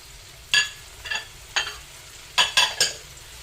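Kangkong (water spinach) and tofu are stir-fried in a pan over a low sizzle, with six scraping, clattering strokes of a utensil, two of them coming in a quick cluster near the end.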